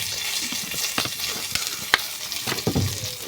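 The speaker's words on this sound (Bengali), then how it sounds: "এখন আমি এই যে ট্রিনার জন্য মাছের ভাজি করব" Fish fries in a pan with a bright, continuous sizzle, overlaid by quick scraping stirs and a few sharp knocks of a utensil, close and clear with no voices.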